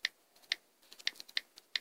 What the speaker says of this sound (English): Let me go type this in chat.